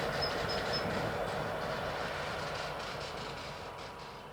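A freight train rolls steadily through the Harrisburg rail yard, a continuous rumble of wheels and cars that fades slightly toward the end, heard alone without voices.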